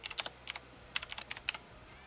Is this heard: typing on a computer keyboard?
yes